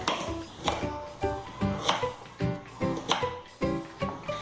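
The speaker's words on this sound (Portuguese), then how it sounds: "descascou as cenouras, é só você dar uma picadinha nelas" Knife chopping peeled carrots on a board into small pieces before they go into a blender for carrot cake batter, a steady series of close, crisp thuds about every half second with faint background music.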